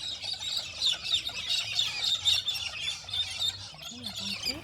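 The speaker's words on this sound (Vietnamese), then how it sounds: "Ồ, con chim rồi, nguyên đàn chim." A flock of birds calls near Uluru in the Australian outback, a dense, continuous wash of high chirps and squawks with a few lower call notes scattered through it.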